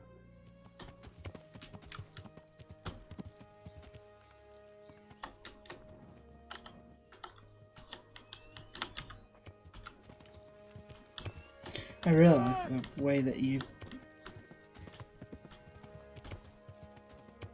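Steady clip-clop of horse hooves plays throughout as a Kingdom Come: Deliverance game sound effect, with a person talking over it briefly in the middle.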